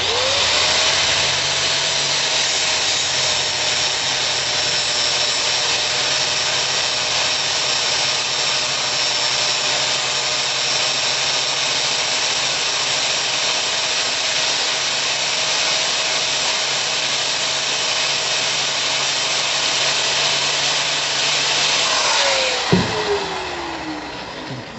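A power grinder runs steadily for over twenty seconds, beveling the sharp leading edges of steel track rollers from a Vermeer CTX-160. It gives a continuous high whine at close range, then spins down and stops at the end.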